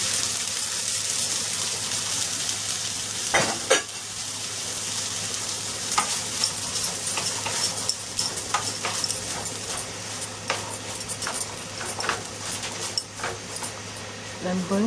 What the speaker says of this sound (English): I'm going to add my black beans to it now.